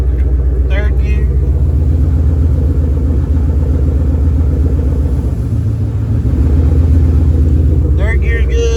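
Ford Fox Body car running in third gear: a steady, loud, low engine drone and rumble that holds an even pitch the whole way, with a slight dip near the middle. A voice speaks briefly over it at the start and the end.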